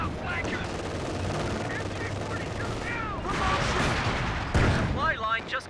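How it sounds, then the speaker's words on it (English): A walking Stuka artillery barrage in Company of Heroes 2 pounds away as dense, continuous battle noise of explosions and machine-gun fire, loud and layered, with a voice talking over it. "big walking Stuka barrage it sounded like"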